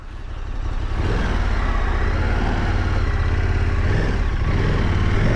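A 2023 KTM 1290 Super Adventure S motorcycle without a quick shifter on a demo ride, its engine a steady, loud, full roar mixed with road and wind rush, rising slightly after the first second, with no talking.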